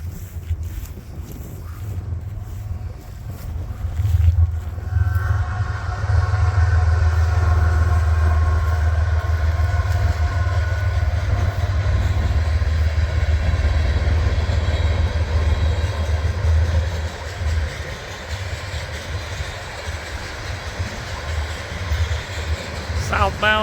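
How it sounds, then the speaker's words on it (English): A Norfolk Southern coal train heads southbound past the listener with a loud rumbling roll and steady grinding of wheels on rail that swells and holds, with wind buffeting the microphone. "Got a train on the way."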